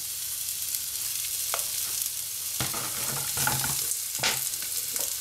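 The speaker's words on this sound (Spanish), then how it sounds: "Freímos la alcachofa." Artichokes, trimmed of their outer leaves and scored, frying in oil, with a steady close sizzle and a few sharper crackles and pops breaking through, no voices.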